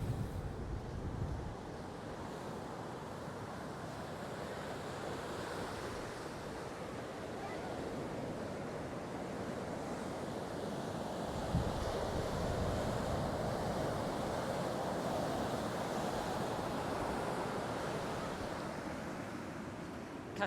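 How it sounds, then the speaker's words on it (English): Continuous roar of ocean surf breaking on a beach at Arrieta, heard from a distance with wind buffeting the microphone. "Shoot a little bit more of the surfers and the waves there, Jules."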